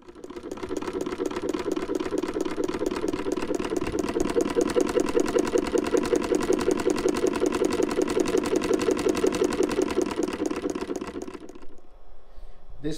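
A 15 class sewing machine modified for heavy-duty sewing runs fast and steady for about eleven seconds, a rapid mechanical chatter over a motor hum, then stops abruptly.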